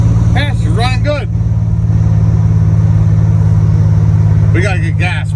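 A Buick Grand National with a new engine idles in a loud, steady rumble up close throughout, while someone talks over it at the start and again near the end.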